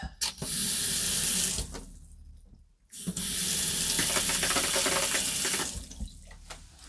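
Water runs steadily from household taps, a continuous splashing hiss that cuts off briefly partway through, then flows on strongly before easing.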